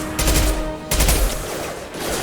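Loud, close gunfire from Mass Effect 2 gameplay, two heavy bursts of rapid shots with continuous crackling fire in between.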